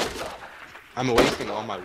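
Gunshots in the Fortnite Battle Royale video game crack out in a sharp, loud burst partway through, with a player talking over the shots.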